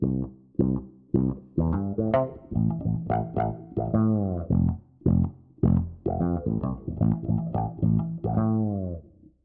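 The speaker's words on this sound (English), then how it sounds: "very narrow for that wah sound, and it sounds like this" Plucked bass guitar notes through a narrow, vocal-like auto-wah filter sweeping each one, played in a bouncy rhythmic line, clear and isolated.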